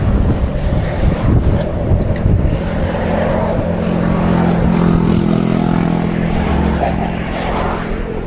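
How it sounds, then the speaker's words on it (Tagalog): Strong wind buffets the microphone on a boat ride over water, a constant loud rumbling roar with a low engine hum underneath, steady throughout without clear talk. "Lakas pa ng hangin."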